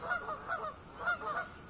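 Several geese at a neighborhood lake in Missouri honk in short bursts, a few calls close together, then another cluster, fairly near with quiet background between.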